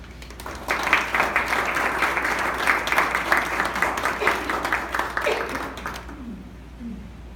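An audience applauds in a lecture hall to welcome a speaker, with steady, dense clapping that holds for several seconds and then dies away abruptly.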